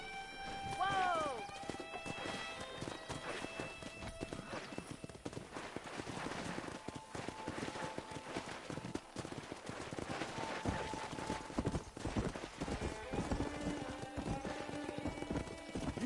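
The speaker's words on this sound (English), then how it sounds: "Let's see if we can't wrangle some horses." Rapid hoofbeats gallop continuously in the video game Red Dead Redemption, with a horse whinnying early on and scattered gunfire and music-like tones layered underneath.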